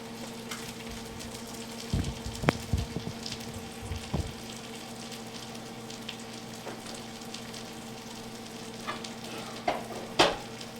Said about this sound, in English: If it isn't sizzling, it means that the oil isn't hot enough.